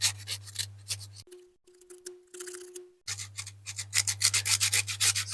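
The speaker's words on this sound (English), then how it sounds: "It's quite a harsh sandpaper this for modelling, but we're only taking the tarnish off" Harsh modelling sandpaper rubs tarnish off the axles of a Dinky Toys 23E Spirit of the Wind diecast car, rapid close scratchy strokes in two bursts around a short quiet gap.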